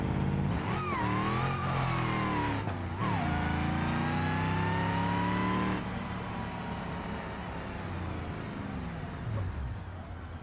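A truck engine in BeamNG.drive revs hard and steadily, its pitch sweeping up and down through several surges before dropping to a lower, rougher drone, loud and continuous with no talk over it.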